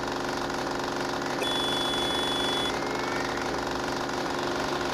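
A Honda Falcon 400 motorcycle engine runs steadily up close with a rhythmic mechanical chatter, while a thin high whine appears briefly midway.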